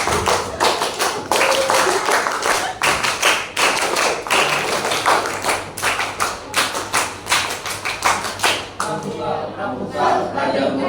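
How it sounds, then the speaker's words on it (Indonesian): A classroom group performs three rounds of rhythmic Indonesian scout clapping, sharp loud claps in quick patterned bursts, followed by a short chanted response from the group. "yaitu 3 kali tepuk pramuka."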